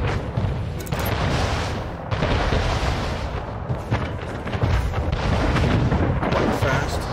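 Warships in the video game Anno 1800 fire on a battle cruiser, a dense, loud run of cannon booms and explosions that continues for several seconds with only brief lulls.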